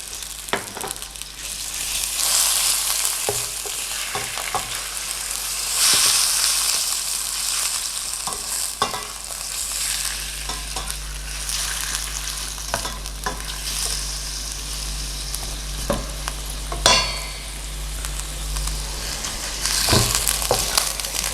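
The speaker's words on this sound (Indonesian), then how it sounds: "Dagingnya kita tumis dulu sampai matang ya" Beef sizzles in sesame oil in a pan for sukiyaki, a steady frying hiss broken by repeated clinks and scrapes of a spatula stirring the meat, with no talking.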